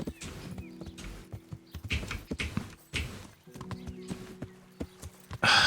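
Hooves of a large horse clip-clop at a walk in the medieval video game Kingdom Come: Deliverance, a steady series of near hoof thuds with a short louder burst at the end.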